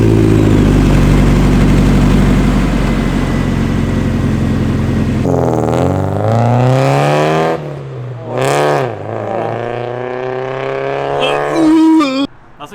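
Car engine running with the exhaust removed: a loud, raw, steady drone for about five seconds, then people talk over a quieter engine.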